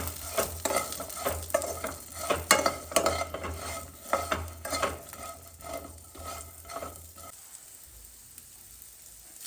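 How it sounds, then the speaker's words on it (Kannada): Drumsticks with turmeric and salt are sautéed in a pan, a busy stream of scraping and tossing over a steady sizzle that runs for several seconds, then stops, leaving near quiet. "ಸ್ವಲ್ಪ ಅರಿಶಿಣ, ಸ್ವಲ್ಪ ಉಪ್ಪು ಹಾಕಿ ಮತ್ತೊಮ್ಮೆ ಚೆನ್ನಾಗಿ ಬಾಡಿಸ್ಕೊಳ್ಳಿ"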